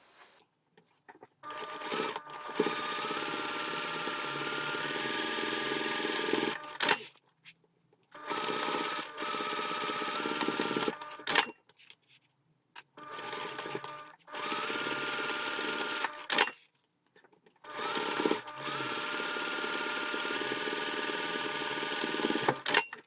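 A sewing machine runs in four long bursts stitching the seams of a bag lining with a 1.5 cm seam allowance, a steady close whirr separated by short silent breaks.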